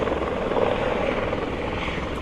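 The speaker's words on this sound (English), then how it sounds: "We're going to watch that helicopter land" A helicopter comes in to land over a row of superyachts in the south of France, its steady, loud rotor and engine roar filling the air without a break.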